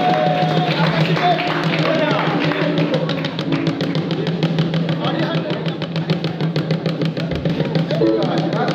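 Steady rhythmic clapping from a crowd at a church ceremony honouring pastors and evangelists, sustained throughout at close range over a humming sound-system backdrop.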